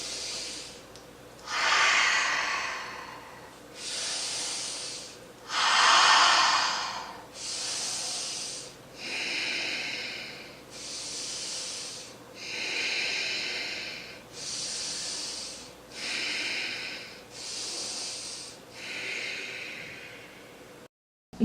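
Steady yoga breathing while a pose is held at the top, about a dozen slow, audible inhales and exhales through the nose, close and hissing, alternating in an even rhythm with no talk.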